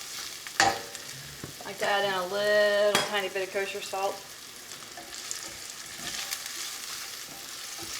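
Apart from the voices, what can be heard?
garlic sizzling and stirred in a frying pan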